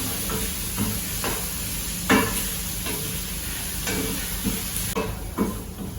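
Fresh mint leaves wilt in a hot pan with a constant hissing sizzle and intermittent soft scrapes of a stirring utensil, close by and free of speech.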